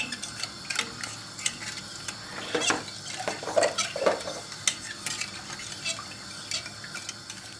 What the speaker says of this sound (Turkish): Ocağımızın altını yakıyoruz karıştırıyoruz